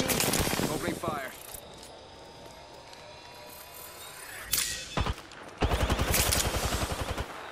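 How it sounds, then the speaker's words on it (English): Rapid bursts of gunfire in Apex Legends crack out in two loud clusters, the second a fast repeating volley, with quieter game sounds and a low hum in between. "Stay focused. Opening fire."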